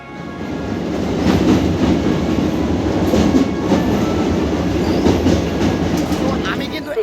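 A train at Prayagraj Junction railway station gives a loud, steady rumble of rolling wagons with faint clatter, continuous for the whole stretch and fading slightly at the end.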